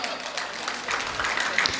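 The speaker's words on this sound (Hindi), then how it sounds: "देखिए बहुत शानदार तालियों से आपने उनका समर्थन किया" Audience at a Hindi poetry recital (kavi sammelan) breaks into sustained, dense applause, a steady wash of many hands clapping throughout, loud and near, with a voice faintly over it.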